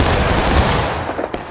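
A musket volley from a line of soldiers in War of Rights, a loud dense crackle of many shots overlapping at close range, then tapering into scattered reports.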